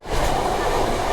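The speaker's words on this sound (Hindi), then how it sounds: "फिलहाल अपनी ट्रेन गुजर रही है महानदी के ऊपर से।" The Howrah–Secunderabad Falaknuma Express rolls over a bridge across the Mahanadi river, a loud, steady rail rumble with wheel noise that holds evenly from start to finish.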